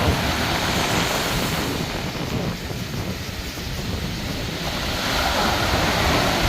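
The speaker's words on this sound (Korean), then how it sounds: "자, 지금 현재 물은 이렇게 내려가고 있습니다." River water rushing downstream on the Wangpi stream: a loud, continuous, broadband wash of flowing water and wind buffeting the microphone, steady throughout with a slight dip in the middle, no voices.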